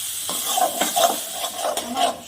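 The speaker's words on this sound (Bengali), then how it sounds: "মশলাটার মধ্যে আলু আর সজনে ডাঁটাটা দিয়ে দিচ্ছি। একটু সবজিটা দিয়ে ভালো করে কষিয়ে নিব" Potato and drumstick pieces sauté in a masala paste, with a steady sizzle broken by scraping strokes and light metallic clinks of a spoon against the pan, close up and with no voices.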